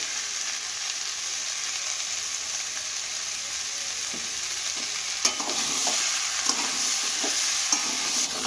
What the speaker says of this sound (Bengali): চানাটা দেওয়ার পরে একটু আবার ভালো করে আবার একটু কষিয়ে নিয়ে তারপরে আমি জল দিয়ে দেবো।